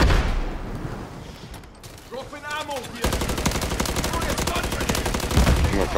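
Gunfire in a Call of Duty zombies match: rapid automatic bursts, mechanical clatter and a booming blast, loud and dense, continuing almost without pause through the second half.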